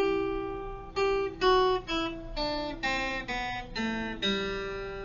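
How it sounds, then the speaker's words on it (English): An ascending major scale played on guitar, about nine sustained notes stepping upward one after another at an even pace. The playing is close and clear, each note ringing with bright overtones, and no one speaks. "I started by playing a major scale in week one"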